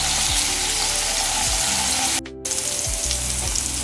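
Chicken fries loudly in a pan, a constant close-up sizzle and crackle, briefly dipping for a moment before hissing on.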